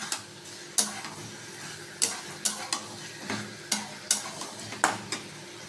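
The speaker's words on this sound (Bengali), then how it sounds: "এবার চিকেনের মধ্যে আমি 1 চামচ ভাজা মশলা দেব, আর এই ভাজা আলুগুলোকেও দিয়ে দেব। দিয়ে ভালো করে আমি এটাকে কষিয়ে নেব।" Chicken being sautéed with a spoonful of fried spices and fried potatoes for a curry, a spoon or spatula scraping the pan in repeated sharp strokes over a steady low sizzle, close and clear with no voices.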